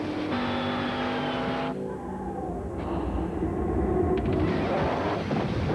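Race-modified Chevrolet Monte Carlo NASCAR race car, a droning engine note that holds steady, shifts abruptly, then swells and fades like a car passing at speed, heard alone without talk.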